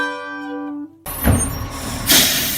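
Lorry pulling away with a hiss of air brakes and a rising rumble as it drives off, loud and close, following a sustained horn-like tone, with no talk.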